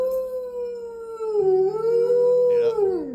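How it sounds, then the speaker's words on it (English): A pet dog named Luna gives one long, steady howl that wavers in pitch, close and loud, with a short yelp-like break near the end. "This is a rare Luna howling sight."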